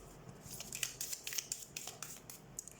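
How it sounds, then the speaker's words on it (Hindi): Tarot cards are shuffled for a reading, giving a close, light, papery riffling and flicking that runs steadily in soft quick bursts. "सबसे पहले हम कार्ड शफल कर लेते हैं"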